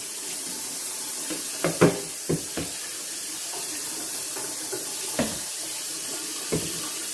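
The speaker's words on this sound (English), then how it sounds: "I do a double rinsing to make sure that all the eggshells are off." Tap water runs steadily into a sink while boiled eggs are rinsed a second time to wash off leftover shell fragments, a soft constant hiss broken by a few brief knocks and clatters of eggs and bowl.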